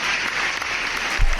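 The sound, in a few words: round of applause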